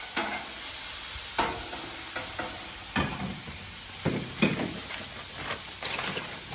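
Pork frying on a flat-top griddle gives a steady hiss, broken by sharp scraping clicks and taps of a spatula at irregular moments, close and fairly loud, with no voices.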